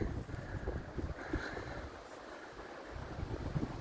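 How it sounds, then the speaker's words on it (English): Breezy, cold wind buffeting a microphone outdoors by an outdoor kitchen, a steady low rumbling roar with gusty swells and no pauses, loud and close. "It's really breezy here today."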